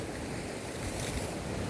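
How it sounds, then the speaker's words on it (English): Ocean water splashing and surging outdoors in Hawaii, a loud continuous wash with wind buffeting the microphone. "Water splashing up behind me."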